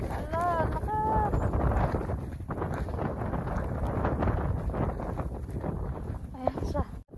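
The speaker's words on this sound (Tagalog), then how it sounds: "Ang lakas ng hangin, oh." A strong wind blows through a snowstorm and roars steadily into the microphone as a continuous, loud gusting rush. A voice exclaims briefly at the start.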